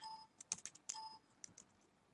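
Quiet keystrokes on a computer keyboard while a Windows script command is typed: a short irregular run of sharp clicks, close and clear, then a fading tap or two.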